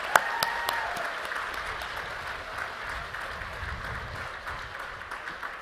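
Audience applause at a commencement for Master of Science in Human Genetics and Genetic Counseling graduates, steady moderate clapping from a sizable crowd with a few sharp individual claps near the start, continuing evenly.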